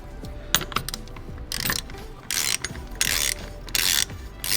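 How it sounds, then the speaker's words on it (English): A torque wrench fitted with a 21 millimeter chrome socket ratchets during a car engine mount install, quick clicking bursts in several short strokes, close and fairly loud. "let's get our torque wrench out and get these specs dialed in"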